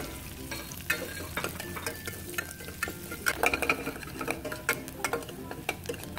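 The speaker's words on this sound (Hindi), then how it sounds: "अब प्याज डालकर इसे हल्के बादामी रंग का होने तक फ्राई करेंगे" Chopped onions fry with ginger-garlic-chilli paste for besan pithla, giving a constant close sizzle broken by sharp, repeated spatula clicks and scrapes against the pan.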